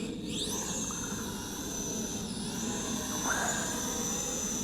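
A DM107s camera drone's small motors whine steadily during automatic takeoff, a high buzzing drone with pitch sweeps as the rotors speed up and settle, close and constant.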